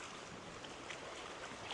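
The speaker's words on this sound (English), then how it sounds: "over here, just the beautiful ocean." Ocean surf washes in a continuous broad hiss with soft swells and some wind buffeting the microphone, faint and steady without voices.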